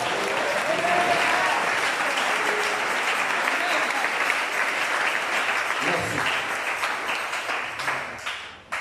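A church congregation applauds steadily in a big, even wash of clapping with some cheering, loud and sustained before tapering off near the end, with voices mixed in.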